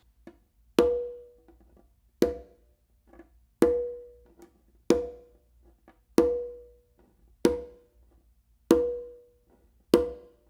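A conga is struck with the fingers of one hand about eight times at an even pace, playing harmonics, each sharp tap ringing with a short tonal overtone, isolated and clear.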